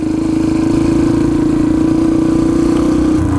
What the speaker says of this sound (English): I put this exhaust on it, the end cap. Sounds a lot better than stock.